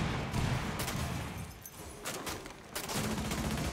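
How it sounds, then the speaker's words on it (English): Bursts of automatic gunfire in Rainbow Six Siege, fired through a window in the Kanal map during a Secure Area match, come as dense, loud volleys with a short lull in the middle. "They're shooting inside this window over here."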